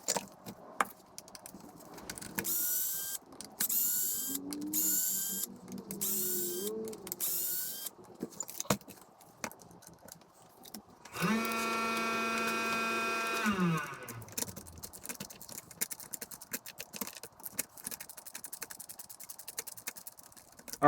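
Hands work on the rear bumper of an Arrma Mojave RC car, making a scatter of close plastic clicks and small tool ticks, then a powered driver whines steadily for a few seconds before the quiet handling resumes.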